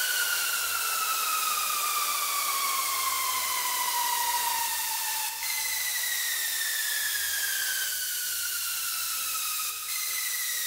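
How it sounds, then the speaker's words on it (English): Synthesized white noise layer for a sample, a loud, steady bright hiss with a few thin, slowly falling tones sweeping through it, continuous with brief dips and no voices. "Now I add some white noise."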